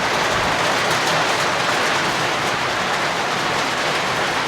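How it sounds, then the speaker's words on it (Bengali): Sudden rain shower over Mollakandi, a village on a river char, heard as a steady, dense wash of rainfall hiss that stays even and fairly loud throughout, with no voices. "হঠাৎ করেই বৃষ্টি শুরু, এই যে মোল্লাকান্দি গ্রামে দেখতে পাচ্ছেন।"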